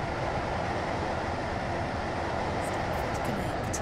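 A video game train pulls into a station, a steady broadband rumble of wheels and motion running throughout, with faint high chimes near the end and no talking.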